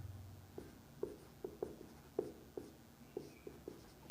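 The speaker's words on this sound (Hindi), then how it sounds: "यहाँ लिख दे रहे हैं," Pen strokes tap and scratch on paper while a maths solution is worked out, giving short, faint, irregular ticks spread across a few seconds in a quiet room.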